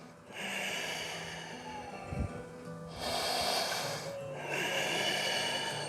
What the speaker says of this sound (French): Allez, on respire.